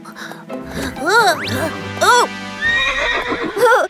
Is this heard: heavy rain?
no